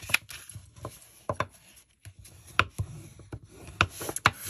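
Folded paper tabs on a handmade craft album are burnished by hand, giving close, irregular rubbing strokes broken by sharp taps and short scrapes, with no talk.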